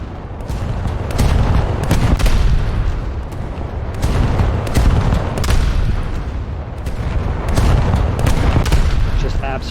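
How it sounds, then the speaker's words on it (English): HMS Hood's heavy naval guns fire armor-piercing shells in a naval combat video game, heard as repeated deep, loud booming salvos rolling in waves, with dense rumble throughout. "set armor-piercing shots."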